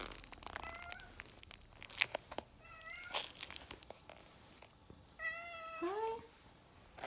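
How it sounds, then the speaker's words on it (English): A house cat meows several times indoors, rising and falling calls near and fairly loud, with some rustling and handling noise around them. "Because my cat is distracting me."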